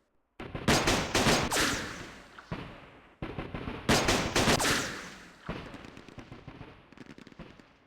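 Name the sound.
gunfire in the video game Campaign Series Vietnam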